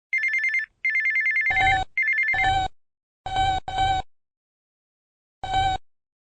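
A phone rings repeatedly in short electronic bursts: a high warbling ringtone alternating with brighter bell-like tones, separated by brief silences, loud and clear with no speech.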